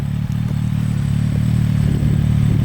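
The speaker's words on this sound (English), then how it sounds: "probably you can see the Panigale coming" A Ducati Panigale 1299 superbike approaches along a long straight road, a steady engine drone that swells slightly in loudness, blended with constant wind rush and rumble from riding.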